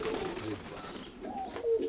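Pigeons, including a young one, cooing close by in a brief stretch of soft, low, rolling calls with no talk.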